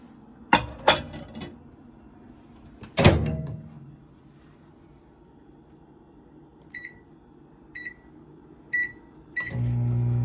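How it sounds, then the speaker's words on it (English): A few clunks and a door-like thud come first, then a steady quiet hum of a microwave oven melting butter, broken by four evenly spaced electronic beeps near the end. "We're gonna melt the butter in the microwave."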